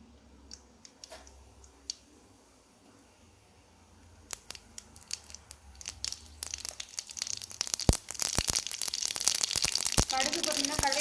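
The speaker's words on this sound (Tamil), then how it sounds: "எண்ணெய் காஞ்சோன்னா கடுகு சேர்த்துக்கிங்க" Mustard seeds spluttering in hot oil in a kadai while making cabbage kootu, starting as scattered faint pops and building into dense, continuous crackling toward the end.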